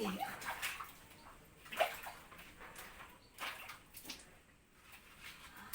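Water splashes and sloshes in a tub during a bath, coming as soft, irregular bursts and gurgles at low volume with quiet gaps between them.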